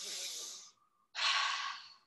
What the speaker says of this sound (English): Inhale through nose, exhale through mouth.